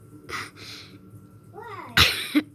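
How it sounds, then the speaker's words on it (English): A single loud, close sneeze bursts out after a brief intake of breath, following scattered quieter vocal sounds. "I sneezed."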